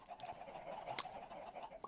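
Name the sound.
chickens in the video game Minecraft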